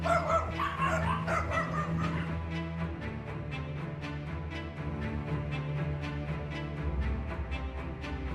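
Dog barking in a sustained, loud stream of repeated barks and yelps at night in a residential yard as a leopard attacks it, with steady background noise throughout.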